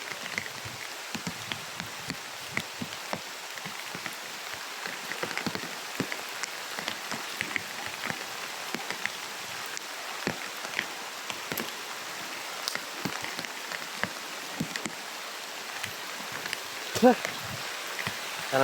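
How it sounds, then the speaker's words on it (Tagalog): Heavy rain pattering steadily on surfaces nearby, a dense even hiss with scattered sharper drops, continuous throughout. "Malakas ng ulan mga tol."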